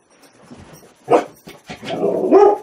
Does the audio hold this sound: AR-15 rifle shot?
no